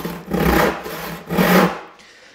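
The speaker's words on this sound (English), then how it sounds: "As I saw, I'm moving everything in a nice straight line" A hand saw cuts through wooden stock in two long, steady rasping strokes, close and loud, with no talking.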